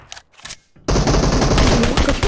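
Gunfire in PUBG Mobile starts with a couple of faint shots, then breaks into loud, continuous automatic fire close by that holds steady to the end.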